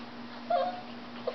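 A short, thin whimper from a dog rises briefly over a steady low hum, followed by a faint second squeak.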